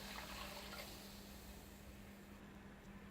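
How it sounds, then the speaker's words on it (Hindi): Strained tamarind water pours steadily into a pan, a continuous soft liquid splash and trickle heard close and alone. "अब मैं इस पैन में दोबारा से ये इमली वाला पानी डाल दूँगी जो मैंने छान लिया था"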